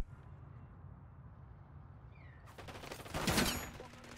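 A burst of rapid gunfire erupts partway through in Call of Duty: Modern Warfare 3 multiplayer, loud crackling shots over a low background rumble, sounding like distant combat.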